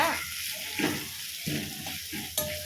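Onions and curry leaves fry in hot oil for a roadside-style salna, a steady sizzle broken by a few stirring scrapes and clatters, close by, with no talking.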